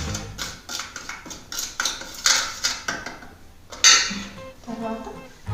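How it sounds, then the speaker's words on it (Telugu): Spoons and a bowl clink and scrape while salt and chili powder are stirred together for fish 65, giving a run of irregular metallic taps and rattles close by. "ఫస్ట్ ఉప్పు కారం తగినంత నేను ఇలా మిక్స్ చేస్తాను"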